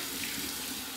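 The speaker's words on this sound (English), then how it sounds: "Here we go with the first rinse, warm water right from the tap." Warm water runs steadily from a tap to rinse shaving soap, a close, even rushing splash that holds constant throughout with no voices.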